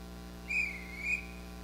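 A ship's captain whistles to call people: two short, clear whistle blasts at a steady high pitch, spaced about half a second apart, over a low steady hum.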